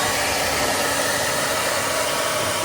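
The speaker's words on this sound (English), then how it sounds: "I will use my hair dryer again to make sure all the ice is melted." A hair dryer runs continuously at steady volume, blowing to melt ice from beneath the freezer of a leaking Samsung refrigerator; a constant broadband whoosh with a low motor hum, no breaks.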